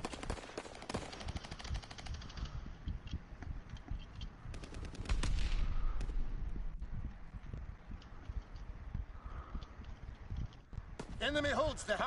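Gunfire in the Call of Duty video game during a hardpoint match, bursts of rapid automatic shots and single cracks scattered throughout, fairly faint and mixed with game voices and other in-game noise.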